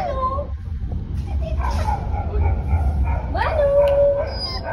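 Dogs at a house bark and howl at friends arriving late at night, a close, drawn-out howling yip with whimpering tones, rising into a long wail, mixed with people talking nearby.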